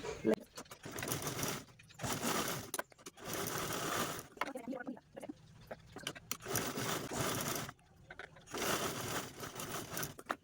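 A sewing machine stitches the corners of a fabric piece in several separate bursts of close, rattling whir, with pauses between runs and someone talking during the gaps.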